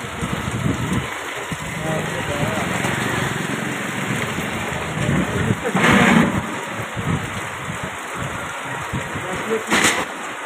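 Thunder rumbles low and distant under a darkened sky while rain patters steadily, with a deeper roll swelling midway and indistinct voices mixed into the outdoor noise.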